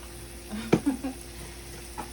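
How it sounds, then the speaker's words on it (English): Seasonings for shrimp fried rice with pepper, onion powder, adobo and garlic powder being stirred in a hot pan: a brief scrape and clatter of the spoon with a faint sizzle, close by and short. "And we're gonna stir this up."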